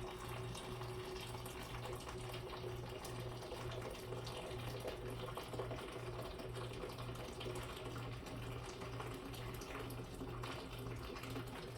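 Hot water runs steadily from a tap while making beef and vegetable soup, a continuous faint hiss with a soft pulsing hum beneath, no talk.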